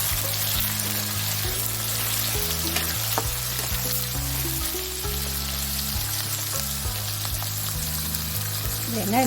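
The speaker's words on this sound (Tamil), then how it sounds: "வெங்காயம் நல்லா பொன்னிறமாக வதங்கி வரும்." Chopped onions fry steadily in hot oil with fennel for a chicken gravy, a loud continuous close sizzle with occasional stirring, and no one speaks over it.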